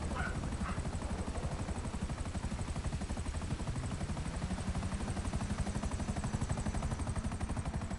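A helicopter in the video game GTA Online thrums steadily with a fast, even rotor chop and a whining turbine tone, staying loud and constant from start to finish.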